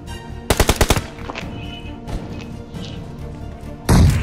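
Gunfire in the battle royale game BGMI during a crowded final circle: a rapid burst of about six loud automatic shots, then a low rumbling game soundscape and another heavy blast near the end.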